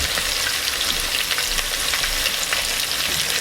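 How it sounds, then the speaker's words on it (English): A pot roast browns in a hot pressure cooker pot, giving a steady, loud, close sizzle of searing meat that holds evenly throughout with no talking. "we're going to put the roast in here, and we're going to brown it on all sides"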